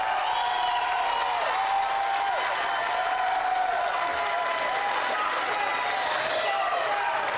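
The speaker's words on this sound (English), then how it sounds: "So let's give him a round of applause." Loud, sustained applause from a large crowd at a 2014 election night event, with cheering mixed in throughout.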